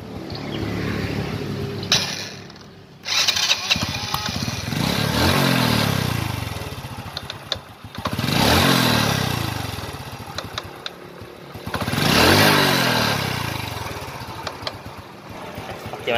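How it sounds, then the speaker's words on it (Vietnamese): A 2005 ZX motorcycle engine with a knocking fault, revved up and let down in repeated swells with falling pitch sweeps, close and loud, with faint tapping clatter between revs. "Lên ga xuống ga là còn nghe cọc cọc nha mọi người."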